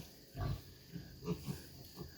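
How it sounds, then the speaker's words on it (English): Grunts from mixed-breed pigs judged poor stock, a few low, rough bursts spaced irregularly across a couple of seconds, moderately close with no talk. "They're just not good pigs."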